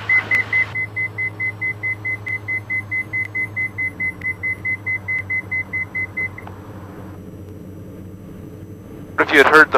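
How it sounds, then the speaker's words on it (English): An aircraft stall warning horn beeps in a steady rapid series of short tones for about six seconds in a multi-engine training cockpit, over a low engine drone, then stops before a brief loud clatter at the end. "Stall horn. The beep."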